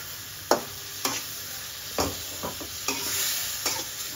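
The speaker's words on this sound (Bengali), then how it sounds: "এখন আমি দিয়ে দিচ্ছি বেগুন।" Eggplant stirred in a pan of cooked-down spices for a Bengali tangra fish curry, with a steady sizzle and sharp scraping strokes of the spoon at irregular intervals, close and fairly loud, no talking.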